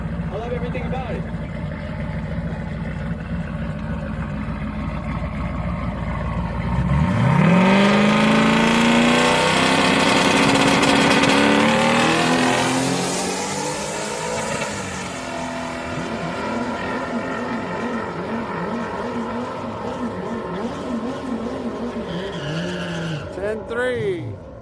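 Drag racing car at Houston Raceway Park during a Friday street night, its engine revving hard in a loud, rising run that peaks mid-clip, then settles into a fluttering idle with crowd chatter and voices underneath.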